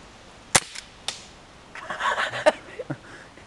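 Pellet gun shots fired outdoors at an LG Chocolate Touch phone: two sharp, snappy cracks about half a second apart, then a brief rustling burst and a few smaller ticks, fairly faint against quiet background.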